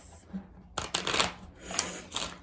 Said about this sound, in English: So I'm going to pull 4 of these chakra cards.